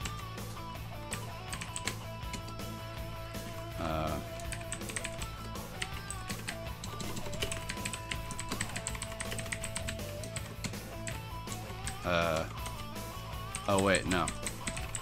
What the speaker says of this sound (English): Which keyboard am I using? This is a Red Dragon K something.